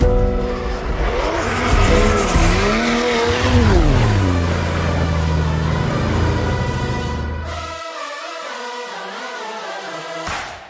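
A 1000 hp 2JZ-powered Nissan S14.9 drift car screams loudly up close, its engine revving and falling in pitch while the tires squeal hard, then the engine note drops to a lower drone before cutting off abruptly.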